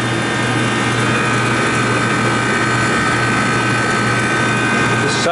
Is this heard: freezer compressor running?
yes